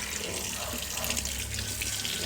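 Food, including crab, is rinsed under a running kitchen tap, a steady close rush of water splashing into a sink with no voices.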